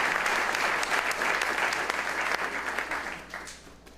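Audience at a peace rally for Ukraine applauding, a loud, dense, steady clapping that fades slightly toward the end.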